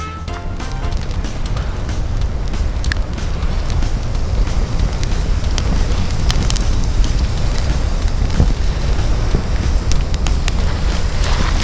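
A small campfire burns in a tiny magazine-freebie fire stand at a campsite, giving a continuous crackling roar with sharp pops, loud and close and buffeted by wind noise, with no talk.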